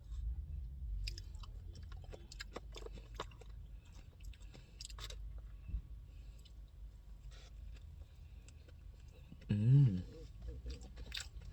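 Someone chews and bites ginger, with soft crunchy, wet mastication sounds repeating close by over a low outdoor hum, and a louder burst near the end.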